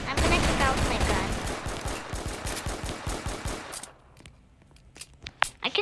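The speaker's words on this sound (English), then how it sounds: "I'm literally shooting on your stomach" Gunfire in Roblox Brookhaven comes as fast, repeated shots for several seconds, then drops to a few scattered, sharper pops against a quieter background.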